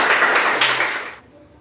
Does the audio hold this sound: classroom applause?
yes